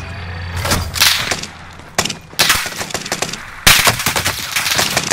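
Gunfire in Warzone plays out as several loud, sharp bursts of rapid automatic shots separated by brief lulls, close and punchy, with no talking.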